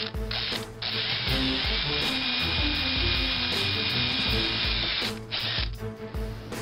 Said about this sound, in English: So just take my drill here and drill a hole